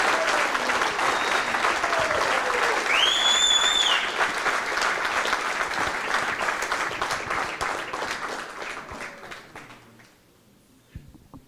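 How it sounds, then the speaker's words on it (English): A large audience at the 2024 WPA Men's World 8-Ball Championship final applauds loudly and continuously, with a brief whistle early on, before the clapping gradually fades away at the end. "let's give a big special round of applause once again"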